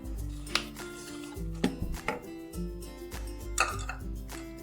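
A spoon stirring semolina (rava) cake batter in a bowl, with soft scraping and several sharp clinks against the bowl at irregular moments, close up over steady tonal background music.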